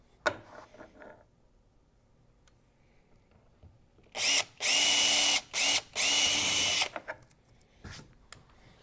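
A power drill whirs in several short bursts while bolting an H bar mount onto a Hobie Pro Angler 12 kayak, loud and close, with quieter handling clicks before and after.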